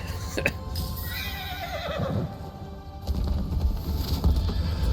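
A horse whinnies with a descending, wavering call over a busy background of clatter and rumble, followed by more dense action noise, in the video game Where Winds Meet.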